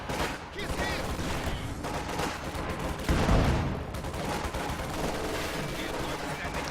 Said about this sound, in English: Panzer Grenadiers firing on these shock troops